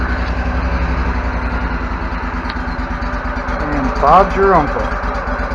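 A Bobcat zero turn mower engine idles after a cold start with the choke on. The steady, close, low rumble throbs evenly throughout while someone speaks briefly over it.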